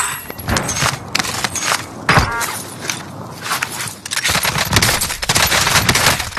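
Warzone battle royale gunfire: bursts of automatic weapon shots crackle close by alongside thuds and footstep-like impacts, dense and loud across the whole stretch with no speech.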